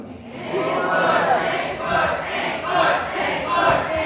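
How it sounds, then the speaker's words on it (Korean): A concert audience at an autumn season performance shouts and chants together for an encore. The crowd noise is loud and sustained and swells in repeated waves. "앵콜 요청이 말 그대로 쇄도하는데요"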